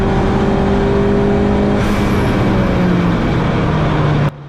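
Mini race cars battling at Donington, a loud sustained engine drone with tonal whine shifting in pitch as they pass, ending abruptly.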